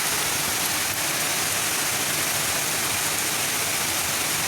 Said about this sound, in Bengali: এত জোরে বৃষ্টি হচ্ছে আর তার সঙ্গে বিদ্যুৎ চমকাচ্ছে আর হাওয়াও দিচ্ছে